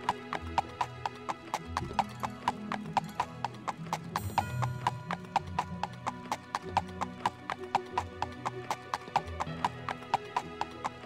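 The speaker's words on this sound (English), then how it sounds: "Horses can do anything." A horse in an Elder Scrolls video game gallops up a mountainside, its hooves clip-clopping in a steady, rapid, unbroken rhythm for several seconds with a faint low background underneath.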